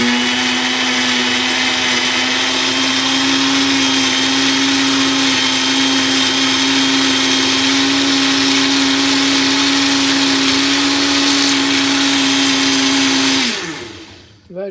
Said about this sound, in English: Now, we just push the power on and start blending.